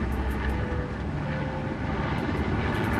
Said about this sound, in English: we see the helicopter maintaining low hover over the inflatable craft